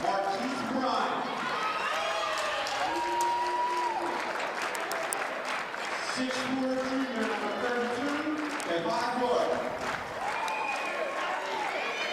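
A home crowd at a high school basketball playoff game claps steadily before starting lineups, with cheers and voices mixed in over a continuous roar, and a person talks over it.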